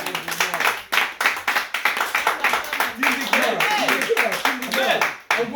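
A church congregation at a French-language Sunday service claps in a steady quick rhythm to acclaim the Lord, loud and close, with voices singing and calling out over the clapping.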